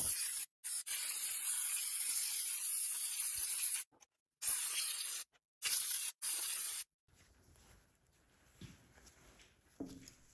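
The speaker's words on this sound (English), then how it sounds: "Let's remove the carburetor and get it blown out with compressed air." Compressed air hisses in several sharp, loud bursts with short gaps as it blows out the carburetor of a Stihl MS270 chainsaw, then gives way to quieter handling noises.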